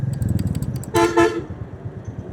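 Car horns honk in a road traffic jam, with a quick run of short toots followed by two louder, longer blasts close by over a low engine rumble.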